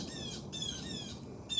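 Birds calling outdoors ahead of approaching rain: bright, repeated chirps and short tweets in a loose rhythm, fairly close and clear over a quiet background, with no talking.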